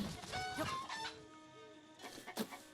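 Cuccos in Zelda: Breath of the Wild cluck and squawk in a busy, overlapping flock, loud and near, with repeated bursts and no talking.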